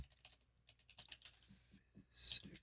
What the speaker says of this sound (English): Listen for the sounds of typing